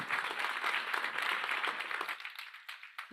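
Enthusiastic audience applause at a startup innovation awards final, loud and dense for about two seconds before thinning to a few scattered claps.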